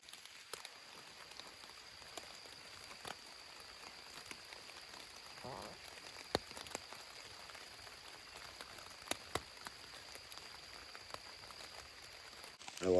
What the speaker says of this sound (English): enjoy this rain, because I like camping in the rain.